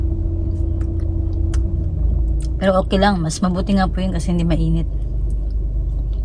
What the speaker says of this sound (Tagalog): Yung sasakyan ko, walang tigil to. Naka-andar.